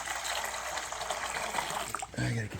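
Water gushes and splashes steadily as it is poured out for pigs, a continuous liquid rush that gives way to a short low thud near the end.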